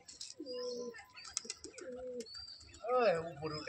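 Indian Turkish Tumbler pigeons cooing in low, rounded repeated phrases close by, with higher chirps and flutter noises in between and a person talking over parts of it.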